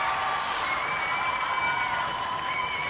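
Dense, steady roar of a Wolverines home crowd cheering through a Michigan versus Iowa Big Ten field hockey match late in the fourth quarter, continuous and distant-sounding, with a faint whistle-like tone riding above.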